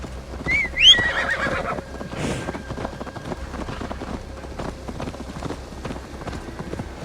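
A horse whinnies loudly near the start in Assassin's Creed Valhalla, followed by steady clip-clop hoofbeats of riding that continue to the end under a soft rain-like background.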